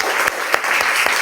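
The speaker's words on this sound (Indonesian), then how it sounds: "berikan tepuk tangan untuk teman kita." Students in a classroom applaud a classmate, a brief burst of close, loud clapping with a few sharper individual claps standing out from the group.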